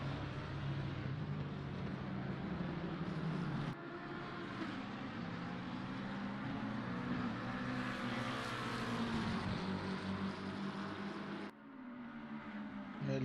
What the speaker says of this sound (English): You can hear engines of more back markers up ahead.